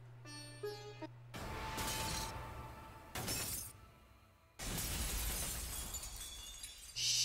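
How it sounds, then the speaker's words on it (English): In Danganronpa V3: Killing Harmony, a thrown hammer smashes through glass, giving a loud burst of shattering that returns in bright crashing waves after a short musical opening, with no talk. "I held the hammer in my hand, faced the glass in front of me, and threw it as hard as I could."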